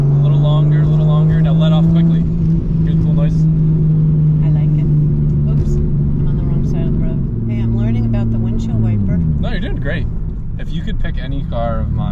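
A Nissan R34 Skyline roars at full throttle in third gear, its engine note droning loud and steady from inside the cabin as the pitch shifts partway through, with people talking over it.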